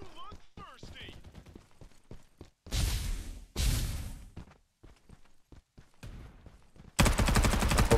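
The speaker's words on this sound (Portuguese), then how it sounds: "Tiroteio fica frenético." Rapid bursts of gunfire and heavy automatic fire in the Farlight 84 battle royale game, loud and mixed with footsteps and other game effects, while a player talks between the shots.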